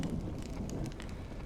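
Steady rain falls in a desolate outdoor spot in the video game Honkai Star Rail, a dense continuous hiss with a low rumble, heard alone and fairly loud throughout.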